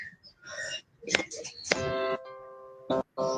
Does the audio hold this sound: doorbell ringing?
yes